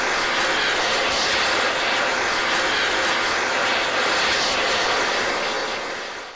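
Eurofighter Typhoon fighter jet engine in the ARMA 3 video game, a loud, steady roaring rush that holds unbroken throughout and fades slightly at the end.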